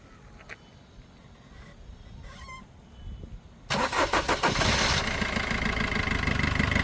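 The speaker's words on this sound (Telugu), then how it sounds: "ఒకసారి కార్ కూడా స్టార్ట్ చేసి చూపిస్తానండి. ఒకసారి ఇంజిన్ సౌండ్ కూడా చూద్దాం" A 2018 Maruti Brezza car cranks briefly after some quiet clicks, catches with a loud rise and settles into a steady, close idle.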